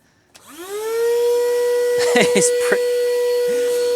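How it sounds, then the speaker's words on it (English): A handheld car vacuum with a brush attachment starts up and settles into a steady, loud whine while cleaning around rubber crevices, with brief scraping and rattling as the brush works in. "I'm just hoovering here around these rubber bits, so I can get in all those little crevices"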